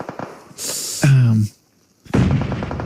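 Grenade blasts in PUBG Mobile during an esports grand final go off as sharp, loud bursts with rumbling tails, separated by a brief silence, under excited commentator talk.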